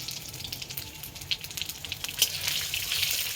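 Panch phoron, the five-spice mix, tempers in hot oil for a vegetable dal, giving a steady bright sizzling hiss scattered with quick crackles and pops that swell louder toward the end.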